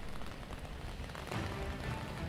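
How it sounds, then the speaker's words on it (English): Rain falls steadily in a faint, continuous hiss of drops hitting the ground, with no voices and no change across the clip. "right now it is still raining"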